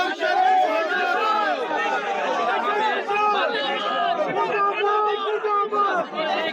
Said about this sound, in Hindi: इलेक्शन कमीशन पहुंच के ही उन्होंने मुर्दाबाद के नारों की लगाना शुरू कर दी है